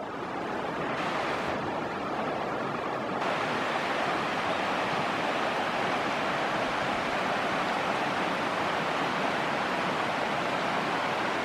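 Steady, full-band rushing of a river flowing past a boondocking campsite near Minerva in New York's Adirondacks, a constant close wash with no breaks and no voices.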